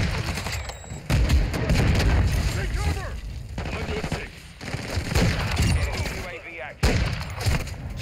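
Rapid gunfire bursts and booms from Call of Duty Modern Warfare 2 gameplay crackle throughout, mixed with game noise while a player talks over it.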